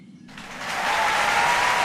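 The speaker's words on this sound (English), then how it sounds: "The crowd cheering on their feet." A race track crowd at Phoenix Raceway for a NASCAR Cup Series restart swells into cheering and clapping, rising quickly from quiet to a loud steady roar within two seconds.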